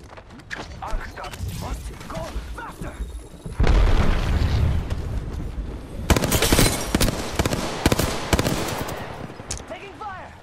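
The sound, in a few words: gunfire and explosions in Apex Legends video game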